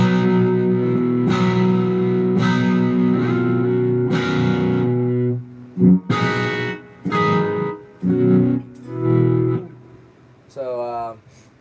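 An electric guitar rings out long sustained chords through a delay effect, each chord held for several seconds with echoing repeats, then shorter stabs trailing off, played alone in a studio.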